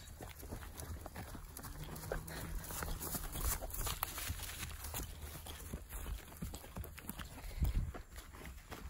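Horses walk on an outdoor farm during a daily feeding routine, their hooves clip-clopping steadily nearby over a continuous background of rustle and activity.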